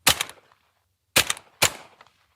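Three sharp, loud shotgun blasts from a Benelli Montefeltro Ultra Light inertia semi-automatic shooting at clays outdoors, one followed about a second later by a quick pair.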